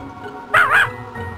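A cartoon puppy in the Putt Putt Travels Through Time video game gives a single short, bright yipping bark, close and clear over a quiet background with no talking.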